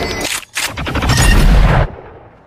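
Loud burst of gunfire from a film scene as aliens are shot, heavy booming shots running together for about two seconds before cutting off, with no talk.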